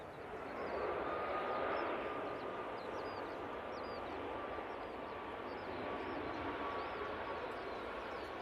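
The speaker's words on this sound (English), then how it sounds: "But I'm sure you'll prefer seeing this Etihad depart." An Etihad airliner departing Manchester Airport, a steady distant jet roar with broad rushing noise and a faint whine, continuous and moderately quiet throughout.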